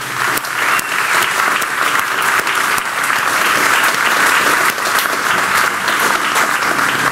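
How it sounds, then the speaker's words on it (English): Audience applause for a guest speaker at a college speaker-series event, a dense steady clapping from a full room that holds strong for about seven seconds with no voices over it. "we wanted to give him one more round of applause for speaking today"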